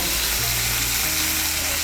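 A splash of water hitting garlic and green chili paste frying in a pan bursts into a loud, dense, continuous hiss and sizzle that stays strong throughout.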